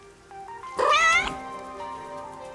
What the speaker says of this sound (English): That's what the cat is saying.